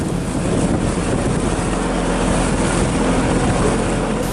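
A motor ship carrying logistics for the Jambi governor and vice-governor election at sea, after an engine breakdown and repair, gives a steady, loud rumble of engine and rushing water with wind buffeting, and no voices.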